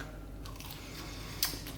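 A single crunchy bite into a fried zucchini pakora fritter, a short crisp crack near the end over low room hiss with no talking.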